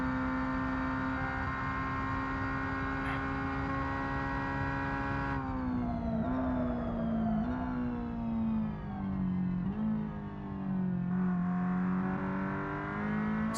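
A race car engine in a Le Mans GTE racing game holds a steady high drone, then blips and drops pitch through a series of downshifts, alone and close.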